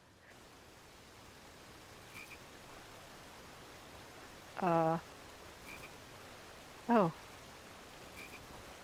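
Two short croaks from a frog in the King's Quest adventure game, each a quick descending ribbed burst, spaced a couple of seconds apart over a soft hissing ambient bed; a brief spoken exclamation occurs.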